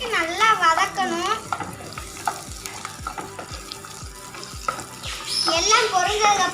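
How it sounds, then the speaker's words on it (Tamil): Salt and spices sizzle and fry in a pan at a catering kitchen while a spoon scrapes and stirs them in a steady rhythm, with faint voices in the background. "நல்லா பொரிஞ்சு வர வரைக்கும் நல்லா வதக்கணும்."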